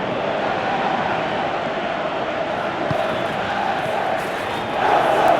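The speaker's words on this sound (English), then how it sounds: "you can hear how the crowd are reacting to this too" A football stadium crowd at an Everton vs Chelsea Premier League match roars in a dense, continuous wash of noise that swells slightly toward the end.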